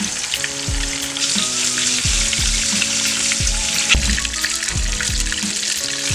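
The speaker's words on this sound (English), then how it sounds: "So I'm gonna let this fry." Beef brisket frying in a pan on a stovetop gives a steady, close sizzle and crackle throughout, with a few faint clinks and scrapes in the background and no talking.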